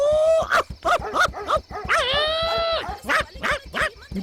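Mangy stray dogs bark loudly and close at night in a rapid run of sharp barks, broken by one drawn-out whining howl before the barking resumes.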